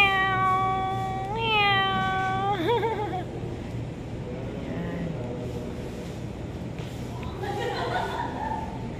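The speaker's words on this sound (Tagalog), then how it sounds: "Ito naman yung mga pusa." Cats at Baluarte in Ilocos Sur meow clearly several times, with drawn-out cries early on and another call near the end, while a person talks quietly in the background.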